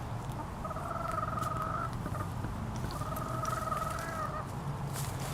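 Backyard chickens in a coop make steady clucking and soft calls that rise into two drawn-out vocal phrases, close and clear over a continuous low outdoor hum, with no talk.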